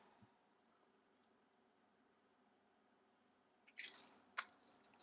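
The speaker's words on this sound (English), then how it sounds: "if you hear munching in the background" A person munches on potato chips in the same room, a few crisp crunching bursts near the end after mostly quiet background.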